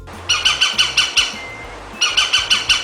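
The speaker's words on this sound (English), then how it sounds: "woodpecker" A woodpecker gives two quick runs of sharp, loud repeated calls, about five notes each, separated by a short pause.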